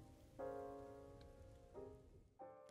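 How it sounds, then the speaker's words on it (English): Light drizzling rain from the video game The Hundred Line: Last Defense Academy, a faint, steady patter running throughout beneath sustained musical tones that swell in and out. "The rain was still drizzling as we made our way back towards Last Defense Academy."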